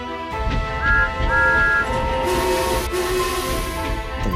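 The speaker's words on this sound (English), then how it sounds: "The royal train glided into the station and eased to a halt by the platform." A royal train with engines and coaches glides into a station and eases to a halt by the platform, with a steady rumble of rolling wheels and a few faint squealing tones.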